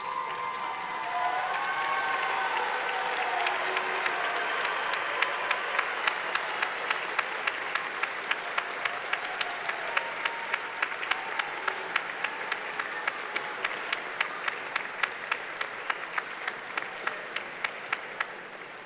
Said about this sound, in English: give them a big round of applause for all they've done for you